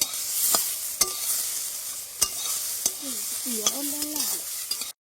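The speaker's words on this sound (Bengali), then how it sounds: "নেড়ে চেড়ে জাস্ট দুই তিন মিনিটের মতন ভেজে নেব" Spring onions fry in oil in a pan for a chicken stew, with a constant close sizzle and a handful of sharp knocks and scrapes from a spoon stirring them.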